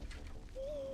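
A short bird call rings out in the video game Far Cry Primal: a single clear whistled tone near the end, over a low background rumble.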